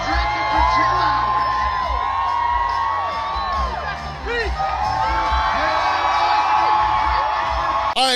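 A large concert audience roars with cheers, whoops and yells, loud and sustained for the whole stretch, with a few sharp shouts standing out near the end.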